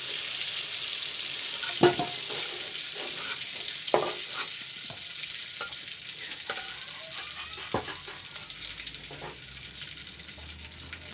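Pumpkin sizzling as it fries in a pan, with steady loud frying hiss throughout and occasional scraping stirs of the spatula cutting through, no talk.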